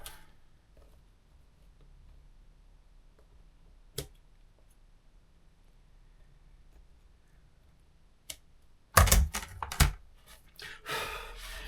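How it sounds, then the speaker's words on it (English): Small scissors snip loose bits from an old book during restoration, heard as a few sharp isolated clicks near the start, then a louder cluster of snipping and handling noise toward the end, close up with no talking. "A couple of bits of loose that I need to trim off. So we get the small pair of scissors."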